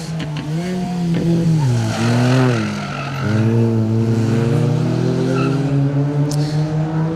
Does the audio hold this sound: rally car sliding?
yes